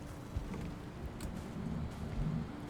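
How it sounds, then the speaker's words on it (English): Steady rain falling outdoors with low rumbles of thunder, a continuous moderate wash of sound with no talking. "Oh, it started to rain."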